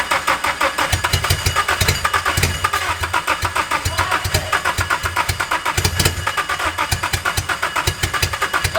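A Nissan engine swapped into a Mazda Miata cranks repeatedly with a rhythmic starter churn, sputtering and catching in rough bursts as it tries to fire for the first time.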